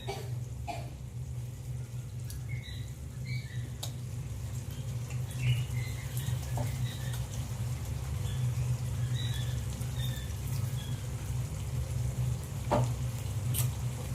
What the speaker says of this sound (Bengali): সেই লেবুর রসটা আমি দিয়ে দেব